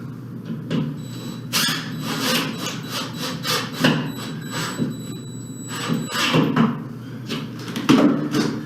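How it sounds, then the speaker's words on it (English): Wooden shims are worked into a drywall hole as bracing, giving irregular bursts of scraping and rubbing with occasional knocks and squeaks, close and fairly loud. "Now what we're going to do is put some bracing in the back. What I'm using for bracing are shims."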